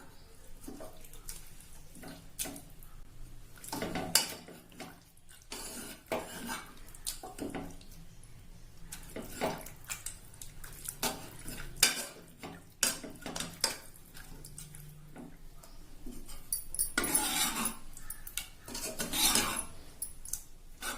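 Cooked brinjal being mashed in a pan for Tamil kathirikkai kadayal, with repeated close clacks and scrapes of a utensil against the vessel at an irregular rhythm, faint background hum, no talk.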